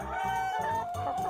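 Free-range hens cluck in a quick series of short, throaty calls, close and fairly loud, with a steady hum running underneath.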